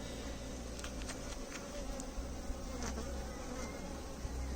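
A bee buzzes steadily and close, apparently working its way up inside a flower or plant, with the drone holding throughout and no talk over it.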